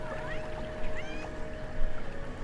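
A pet cat meows loudly indoors, giving two or three drawn-out rising and falling calls over a steady backdrop of video game music and ambient sound.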